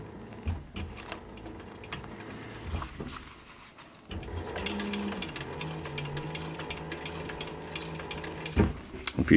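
Sewing machine stitching the seams of a leather short brim cap, running in steady bursts with a clear motor hum, a brief pause near four seconds, then a longer continuous run, close and moderately loud.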